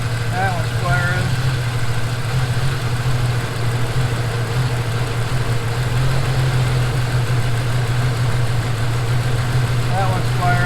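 A 1993 Jeep XJ engine with an injector driver fault idles loudly and steadily nearby in a constant rumble, while someone talks over it.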